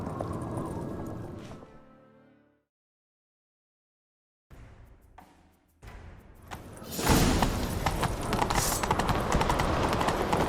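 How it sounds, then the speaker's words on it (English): A horse's hooves clip-clop in The Witcher 3, with a sudden cut to silence partway through, then the hooves return and build to a loud, dense gallop mixed with rushing game sound. "Grab a horse,"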